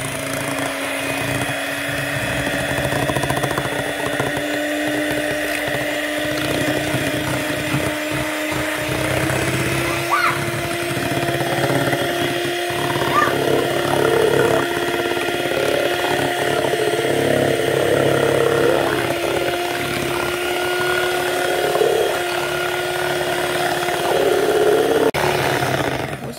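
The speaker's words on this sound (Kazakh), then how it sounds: "Осындай миксермен жай араластырып аламыз." An electric hand mixer whirs steadily throughout, a close, continuous motor drone with a faint rattle as the beaters work through pancake batter.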